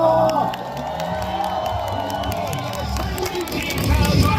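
A large crowd at a Lee Jae-myung presidential campaign street rally outside Yatap Station cheers and applauds, a dense, continuous roar of voices and whoops with clapping mixed in, swelling louder near the end.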